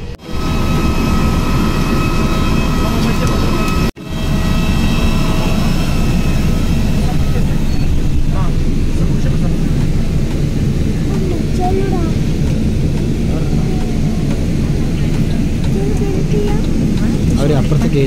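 Loud, steady engine roar and cabin hum inside an airplane as passengers wait to disembark at Bangalore Airport after a flight from Delhi, broken once by a brief dropout, with muffled voices talking throughout.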